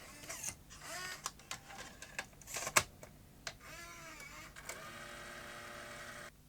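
A Sony BE-V8 8mm tape rewinder powers up with soft mechanical shuffling, small clicks and one sharp snap. A faint whirring motor tone follows, quiet and close.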